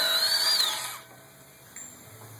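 Axle castle nut on a 2003-2014 Toyota truck front hub being spun off with a 36mm socket on a power tool: a short, loud high whine that rises then stops, followed by quiet shop hum.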